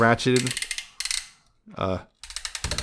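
Plastic ratchet joints of a Transformers War for Cybertron Earthrise Sky Lynx figure clicking in quick bursts of rapid close clicks, separated by short pauses, with a voice briefly between them.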